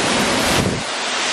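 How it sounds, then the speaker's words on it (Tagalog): Strong wind roars loudly and steadily into the microphone, a dense rushing buffet with no voices. "Lakas ng hangin"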